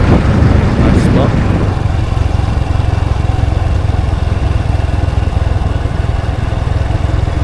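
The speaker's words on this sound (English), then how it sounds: "I'm driving at what can only be described as a funereal pace, a glacial pace. Not really going much over 30 kilometers an hour" A vehicle creeps slowly along the Hai Van Pass mountain road, its engine a steady low rumble with broadband road and wind noise throughout, close and continuous.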